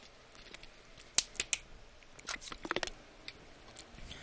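Someone gulps from a water bottle in quiet, close up, with a few sharp wet swallows and little squishy clicks spread over several seconds, no talking.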